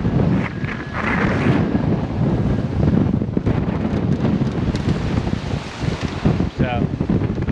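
Strong wind roars across a heavily reefed sailboat on Lake Superior while waves slosh and crash against the hull, a loud, continuous rushing blast with gusty swells and brief splashes.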